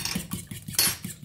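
A spoon mixing bread dough ingredients with salt in a bowl, knocking against the side in a quick steady rhythm of close, clear clinks and scrapes.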